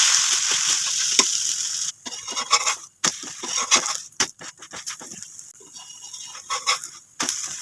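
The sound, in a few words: wheat and moong dal adai frying in oil on pan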